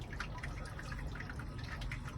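Water dripping and trickling from a lifted grain basket in a Brewster Beacon 40L homebrew system during a golden ale brew, a steady close patter of drops over a continuous low rumble.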